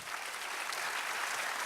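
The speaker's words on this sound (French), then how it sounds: "un petit applaudissement pour eux tous" Audience at a business association general assembly claps in a dense, even burst of applause, sustained and fairly close throughout.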